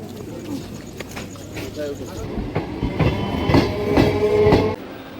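A local commuter train rumbles and clatters along the rails, its rhythmic wheel clicks growing louder toward the end, with people talking nearby over the noise.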